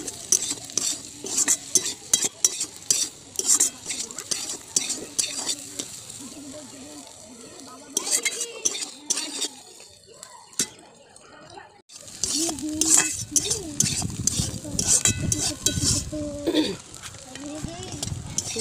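Broad beans fry with egg in a pan while a utensil scrapes and stirs in quick, repeated strokes over a soft sizzle, pausing briefly midway before resuming more vigorously; occasional talk is heard.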